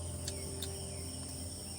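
Crickets chirp in the evening, a dense steady trilling chorus with a few sharper chirps standing out, soft and continuous with no voices.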